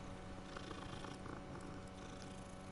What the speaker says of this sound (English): Hey, look, another cat.